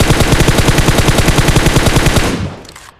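Rapid automatic gunfire in the battle royale game BGMI, a loud sustained burst of evenly spaced shots lasting over two seconds before cutting off.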